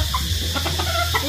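A chicken clucking close by, a few short, throaty clucks in quick succession over a low, steady background hum.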